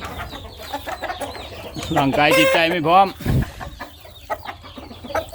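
Burmese chickens cluck and call in a loud burst near the middle, with a person talking in Thai before and after.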